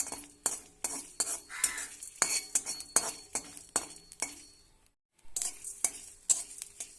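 Dry red chillies with whole cumin and coriander seeds roast in a hot wok, heard as rhythmic scraping and clinking stirring strokes, close and fairly loud, with a short pause partway through.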